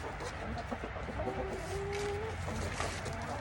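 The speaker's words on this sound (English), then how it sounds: "Hey, Rooster. I believe you know your name, buddy." Chickens and a rooster cluck and call repeatedly at a farm feeding time, several birds close by with overlapping clucks and a few drawn-out tonal calls, no talking.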